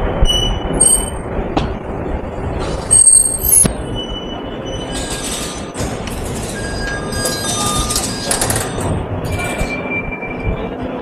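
Tram wheels squeal loudly on rails in Istanbul, sharp high-pitched screeches rising and fading over a steady rolling rumble and clatter, close by, with no talking.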